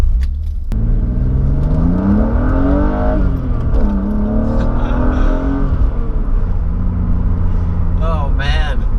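A car with newly replaced motor mounts driving on the road, its engine rumbling loud and steady with rising and falling revs as it accelerates and shifts, heard from inside.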